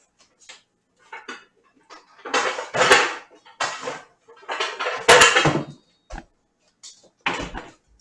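In a kitchen, a mixing bowl is pulled out amid a series of separate clattering knocks and clinks of dishes and cupboard contents, irregular bursts with short pauses between them and no talk.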